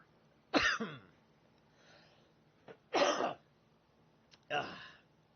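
Three short bursts of coughing, spaced a second or two apart, close and fairly loud, with quiet pauses between them.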